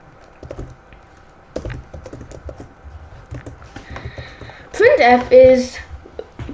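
Keystrokes on a computer keyboard entering a simple C program, a scattered run of light taps that thickens into a brief burst near the end, with background voice-like sound throughout.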